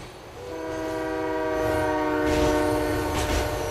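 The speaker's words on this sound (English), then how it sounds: "Wait for the train, jump on board." A train rolls past with a long sustained horn blast in the video game GTA: The Ballad of Gay Tony, the horn's steady tones swelling louder over the rumble of wheels on rails.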